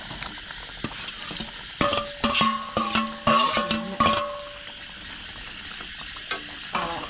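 A spoon stirs paneer into a pan of simmering, bubbling gravy in a village kitchen, with a series of close scraping and clanking strokes over a soft sizzle.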